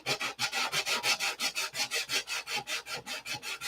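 Balsa wood coated with Super Fill filler being hand-sanded, a steady back-and-forth rasping scrape in about twenty quick, even strokes, close and fairly loud with no talking.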